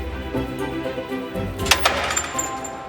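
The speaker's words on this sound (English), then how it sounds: "That was the noise of the motor stopping." A passenger lift's drive motor winds down and brakes to a stop, a steady mechanical hum ending in a few sharp clicks and clunks as the brake engages, fairly close and clear.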